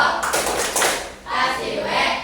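A classroom of children claps through a chant, a dense, loud burst of many hands with shouting, then a pause and a second wave.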